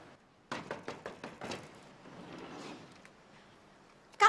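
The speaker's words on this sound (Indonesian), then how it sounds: "Kalau mau ngamen, mendingan jangan ketok-ketok" Rapid knocking on a door, about eight quick raps in a tight burst, close and fairly loud, followed by quiet room tone and a sharp bang at the end.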